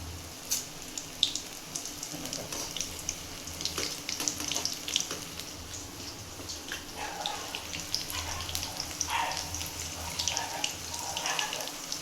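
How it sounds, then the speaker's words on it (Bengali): Okra frying in hot oil in a wok, a steady close sizzle and crackle with scattered spits and pops across the whole stretch, no voices. "ওই ঢ্যাঁড়সটা যেটা মাখানো হয়েছে সেটাকে ভাজতে হবে।"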